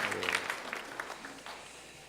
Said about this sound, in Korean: 우리가 격려하는 마음으로 박수하겠습니다